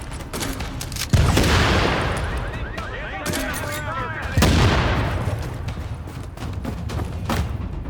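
Sustained gunfire and explosions in the video game Tom Clancy's The Division, with dense overlapping bursts and heavy booms under shouted game voices.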